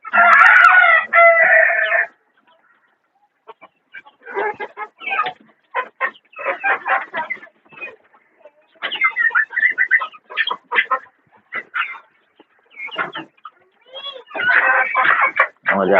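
A fighter-breed rooster at a village poultry farm crows loudly up close, followed by a run of short, bursty clucks and calls with brief gaps, then another strong crow near the end.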